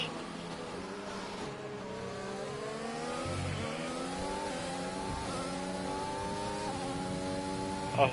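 Several Formula 1 race car engines in the F1 2020 video game drone and rev at high pitch, shifting up and down through gears under steady, moderately loud track noise with no talking.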